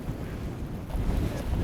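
Strong wind gusts buffet the microphone at a winter camp in the Scottish Highlands, a steady low roar with rising surges and no voices.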